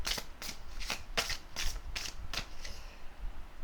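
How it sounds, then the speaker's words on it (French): Oracle cards are shuffled in the hands, giving a steady run of about eight crisp riffling bursts at an even pace, close and clear, with no voices. "je vais prendre une carte de Lise Bartoli"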